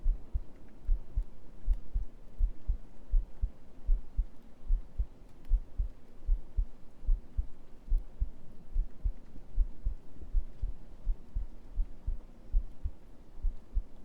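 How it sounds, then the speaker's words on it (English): Heartbeat sounds play in an ASMR stream recorded on a 3Dio binaural microphone: soft, low, steady double thumps repeat at an even pace, close and alone, for about fourteen seconds. "Some heartbeat before I finish."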